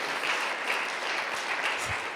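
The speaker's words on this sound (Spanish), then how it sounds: "¿Cuántos damos un aplauso al Señor?" Congregation in a church applauding together, steady dense clapping that fills the room throughout, loud and continuous with no gaps.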